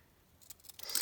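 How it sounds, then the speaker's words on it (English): Zigzag scissors snip through fabric, giving a few quick, faint, crisp cuts that grow a little louder toward the end of the moment. "And I'm just going to snip"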